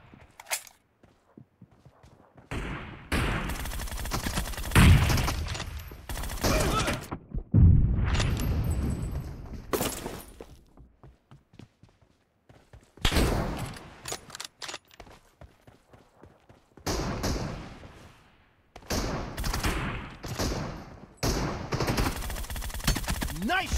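Bursts of rapid machine-gun fire and single gunshots in a team deathmatch video game, loud and close, broken by short silences, with footsteps and a few shouted voices between.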